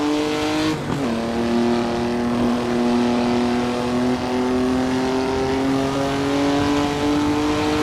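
A race car engine in Assetto Corsa drones loudly and steadily as it accelerates, pitch climbing gradually after a brief dip at the start, heard from close up.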